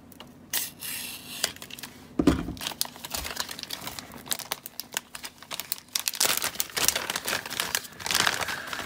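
A well-packaged parcel holding circuit boards is cut and torn open nearby, giving a run of crinkling, rustling and crackling packing material with sharp snips and rips scattered across several seconds, no talk.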